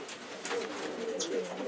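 A pigeon coos softly nearby, a few low, throaty warbling calls over quiet background with no voices.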